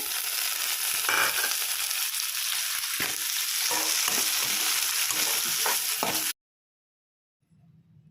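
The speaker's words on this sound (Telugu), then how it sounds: "ఉల్లిపాయ వేగుతుందండి. బ్రౌనిష్ కలర్ రావాలి." Onions frying in a pan toward a brownish colour, a loud, close, continuous sizzle with stirring scrapes, cutting off abruptly to near silence before a faint low hum returns.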